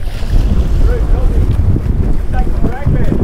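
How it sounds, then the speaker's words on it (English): Strong wind buffets the microphone aboard a fishing boat in a loud, continuous roar, with gusty low rumbling and faint voices underneath. "It's a windy one."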